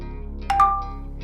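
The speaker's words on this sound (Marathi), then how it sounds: "तिच्या मोबाईलची मेसेज टोन वाजली" A mobile phone's message notification tone sounds once: a short, bright electronic chime of two quick notes near the middle, standing alone over a quiet room background.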